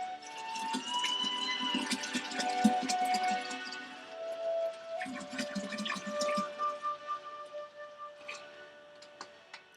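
Cold water is poured into hot tea while making kombucha. The trickle and splash sound faint and close, with a few ringing, tonal glugs and small ticks, in quiet surroundings and without talk.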